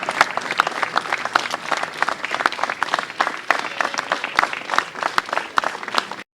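A large congregation applauds steadily at a funeral mass for a journalist in the Église Saint-Ambroise in Paris's 11th arrondissement, with dense, continuous clapping that fills the church without pause.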